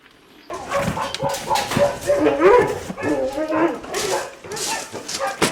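Weimaraner puppies at a breeding kennel yap and whimper in quick, overlapping high bursts close by, with a person talking over them.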